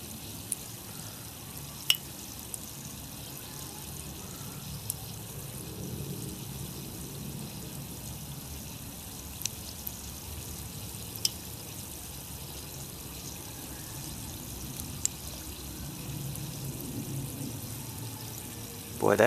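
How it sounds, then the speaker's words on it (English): Moisture boils out of a flyback transformer sitting in hot wax, making a steady soft sizzle and bubbling with occasional sharp pops and crackles, close and fairly quiet. "Wonder if that's all moisture boiling out of that thing."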